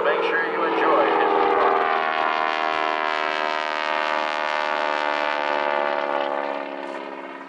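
A small propeller airplane on downwind before landing passes overhead with a steady, loud engine drone that fades slightly at the end. No voices are heard.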